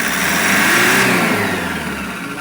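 Toyota Hiace commuter van, 2020 model, its engine revved up after a sensor cleaning for a low-power fault, a loud close mechanical roar climbing in pitch then easing back toward idle over a couple of seconds.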